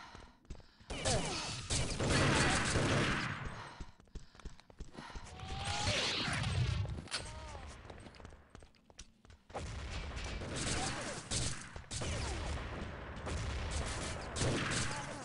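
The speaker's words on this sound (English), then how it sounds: "Loads of random nades here being dropped by Biddle." Grenades going off during a capture-the-flag video game match, a dense stream of bursts and crashes mixed with gunfire, loud and nearly continuous with one brief lull in the middle.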